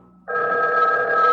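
A telephone bell starts ringing abruptly after a brief quiet moment, a loud, sustained electric ring heard alone and close.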